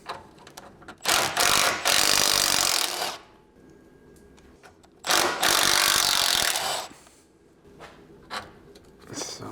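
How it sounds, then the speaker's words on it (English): A ratchet wrench unbolting the sway bar bracket on a BMW E39 M5, with two long bursts of rapid loud clicking close by, separated by quieter knocks and tool handling. "Got to unbolt the sway bar bracket"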